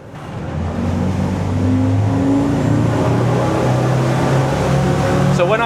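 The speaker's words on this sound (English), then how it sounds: "So when I'm doing full acceleration, I don't just go foot to the floor." The engines of a Boston Whaler 330 Vantage roar up to a steady, loud drone under full acceleration, their pitch climbing and holding under the rush of water, without pause for several seconds.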